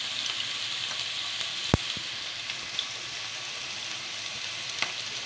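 Onion frying in a pan while a shawarma sandwich is being cooked, giving a steady close sizzle with a few sharp pops and no talking.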